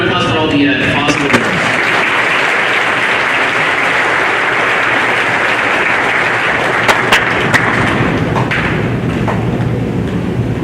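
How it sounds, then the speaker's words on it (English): An audience at a high school awards ceremony applauds in a dense, loud, sustained roar of clapping that fills about ten seconds without letting up, with a few louder claps standing out near the end. "Can we have a round of applause for all the possible?"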